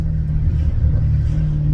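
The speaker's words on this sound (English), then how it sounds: "It does sound like a mini Lamborghini Aventador is what it sounds like." A Maserati GranTurismo S fitted with a Larini exhaust, a deep, loud engine rumble holding steady with a slight rise, heard close and alone.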